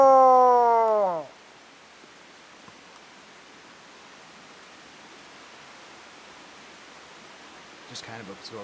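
A person howls in imitation of an animal down in a creek pit at Bluff Creek, a loud falling wail of about a second, followed by quiet outdoor hiss and faint voices at the end.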